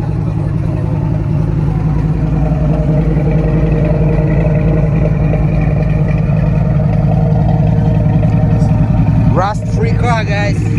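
A 1969 Chevrolet Camaro with a 4-speed runs its engine steadily and loudly for the whole stretch, a deep continuous rumble with a brief higher rev burst near the end.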